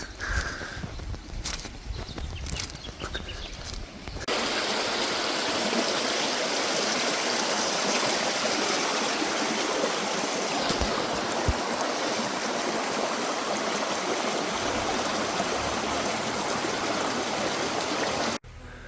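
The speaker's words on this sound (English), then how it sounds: "Got a river just up here, which is what feeds into the thermal pools maybe." A river feeding nearby thermal pools rushes loudly and steadily for most of the stretch, after a quieter opening with a few light knocks, then cuts off abruptly near the end.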